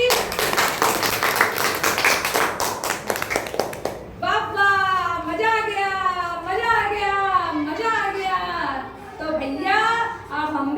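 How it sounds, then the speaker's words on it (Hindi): A burst of group clapping at a puppet show on cleanliness, many hands at once, lasts about four seconds and then gives way to cheerful children's voices singing or chanting. "अगर सबकी समझ में ये बात आ गई है तो इसी बात पर बजाओ ताली।"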